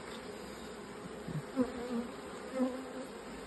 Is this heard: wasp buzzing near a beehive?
yes